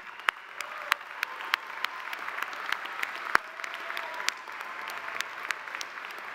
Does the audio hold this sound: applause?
yes